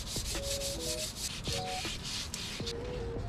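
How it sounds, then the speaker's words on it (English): Steady, loud abrasive rubbing rasps continuously while a junkyard Jeep XJ bumper is sanded, the strokes forming a rough, even rhythm with faint short tonal squeaks mixed in. "I'm gonna start sanding this hole."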